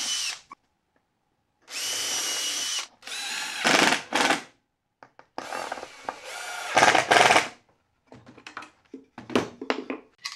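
Power drill driving screws into wooden guides for a homemade band saw mill, several close, loud bursts of whirring motor separated by pauses and small handling knocks.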